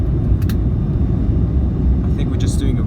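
Steady, loud engine roar fills the cabin of a Mahan Air Airbus A310-304 just after takeoff from Kish, a constant broadband drone with a voice briefly speaking over it.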